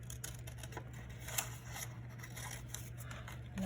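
Scissors snipping through yellow paper to cut out a drawn star, a run of quiet, close crisp cuts and rustles over a steady low hum.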